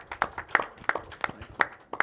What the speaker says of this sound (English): give a round of applause to our debaters here